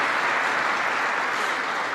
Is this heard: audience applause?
yes